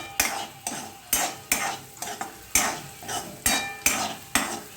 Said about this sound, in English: So I'll now be adding the carrots next. I'm going to stir it a bit.